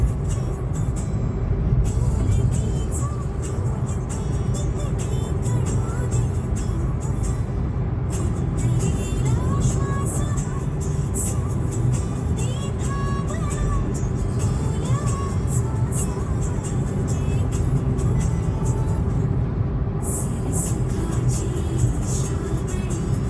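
Steady road rumble and tyre noise from a car cruising at about 90–100 km/h on the Delhi–Mumbai Expressway near Surat in Gujarat, continuous and fairly loud throughout with no talking.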